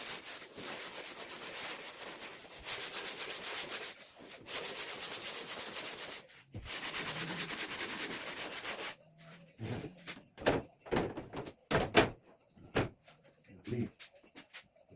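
Wood being sanded during a Mini-Max 1030R build, a steady broadband rubbing that runs in long even passes for about nine seconds, then breaks into short, choppy strokes with pauses.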